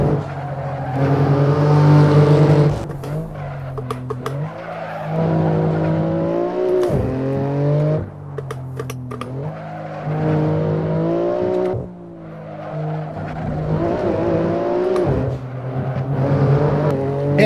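BMW M3 Touring lapping a race track, engine revving hard through rising gears with abrupt downshifts under braking and occasional tire squeal, loud and continuous from inside the car.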